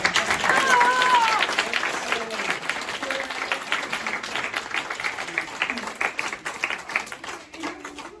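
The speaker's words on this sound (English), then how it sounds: "So another round of applause for this." A graduation audience for an employment training program breaks into applause, dense clapping that starts strong and gradually thins out, with voices mixed in.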